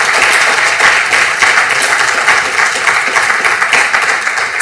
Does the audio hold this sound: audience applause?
yes